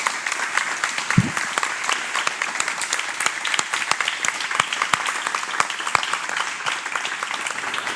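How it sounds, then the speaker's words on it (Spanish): Audience members applaud author Paz Velasco at a book presentation of Homo Criminalis during the Cartagena Negra 2021 festival. The clapping is loud, brisk and continuous, with distinct sharp claps scattered through the sustained patter. "yo les pido un aplauso para Paz, por favor."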